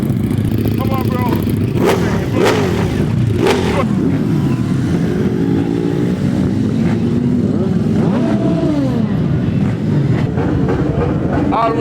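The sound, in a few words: Yamaha motorcycle engine revving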